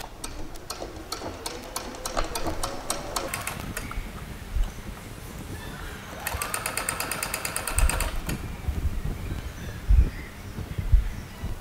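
Two quick runs of close machine stitching on a waistband loop, with scattered handling thumps and bumps between and after the bursts.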